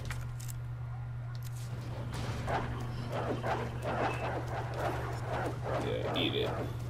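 Dog barking and growling in the video game Resident Evil 2 Remake, a run of short repeated barks with game ambience and a steady low hum, while a person talks over it.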